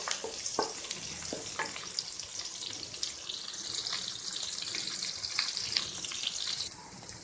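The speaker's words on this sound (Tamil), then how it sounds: "கறிவேப்பிலை, பச்சை மிளகாய், நல்லா கிளறி விடலாம்." Curry leaves and green chillies sautéed in a pan for cabbage poriyal, a close crackling sizzle broken by repeated scraping strokes of a stirring spoon, no talk.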